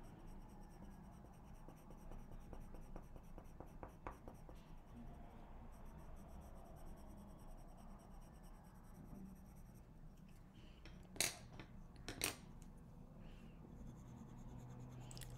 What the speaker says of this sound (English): So wherever you want to blend, make sure you don't press your pencil too hard.